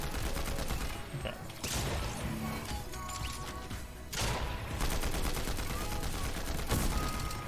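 Dense, continuous automatic fire from a combat assault rifle in a video game, loud and sustained with several brief breaks and heavy crashing texture throughout.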